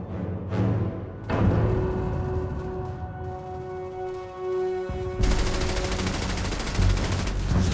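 German MG-42 machine gun firing in rapid sustained bursts, harsh crackling reports with brief gaps between volleys and a fierce final burst, close and loud with battle clatter and no voices.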